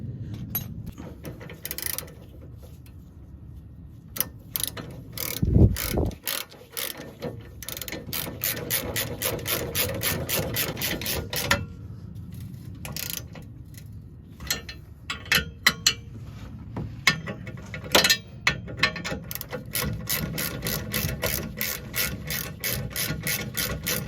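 A hand ratchet tightens the front lower motor mount bolts on a 2008-2012 Ford Escape 3.0L V6, with rapid clicking runs broken by short pauses and one louder metallic knock, close and clear.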